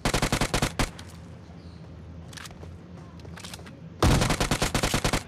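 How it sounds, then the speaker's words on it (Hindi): Rapid automatic gunfire in the mobile shooter BGMI, with dense bursts of shots at the start and again near the end and a quieter gap between them. "अब यहाँ पर देखो यार एकदम से मेरे अंदर कैसे पीछे से फायर पड़ता है।"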